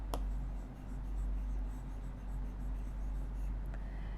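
A pen writes numbers by hand in a series of soft, continuous scratchy strokes over a low steady hum, close and quiet, with a sharp tap near the start and no speech.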